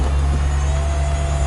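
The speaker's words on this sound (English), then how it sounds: "you can just hear how smooth and how strong this car runs" A 2004 Maserati Spyder Cambiocorsa engine idles steadily with a deep, even hum and a smooth low rumble, close and continuous, with no voices.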